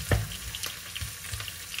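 Onion sizzles softly in a pan with pork and beef, with faint stirring scrapes and low frying crackle, quiet and close.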